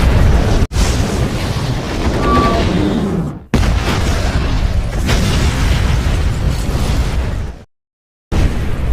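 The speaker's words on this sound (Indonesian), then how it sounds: "Seketika tempat itu pun meledak." Explosion from a Korean action film, loud booming blasts with heavy low rumble, broken by abrupt cuts and a brief silence, dense and close throughout.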